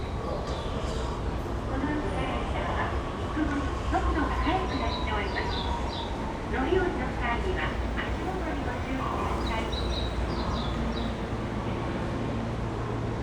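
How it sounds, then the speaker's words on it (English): A Tokyo Metro Fukutoshin Line subway train at Shibuya station rumbles and screeches in a reverberant underground platform, with steady rail noise and station bustle and voices of people talking in the background. "there's a train here."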